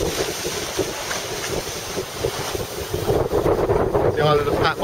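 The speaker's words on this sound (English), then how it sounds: "It's about a wind force 4 at the moment." Wind buffets a sailboat at sea near the island of Patmos in a force 4 breeze while towing a dinghy, the steady rush and microphone gusts mixing with water wash, growing louder near the end.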